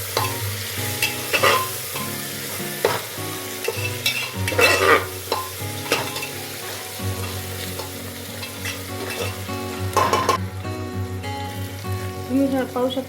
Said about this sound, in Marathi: आता आपण कट केलेले टोमॅटो घालून घेऊया। तेही छानपैकी तेलामध्ये परतून घेऊया।